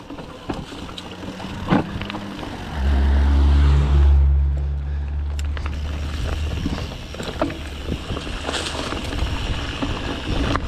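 Car passing on a forest trail during an enduro ride, a deep engine rumble swelling loudly nearby for a few seconds before fading, amid wind and rustling noise.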